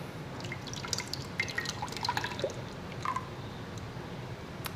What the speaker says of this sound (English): So I'm going to pour this back in.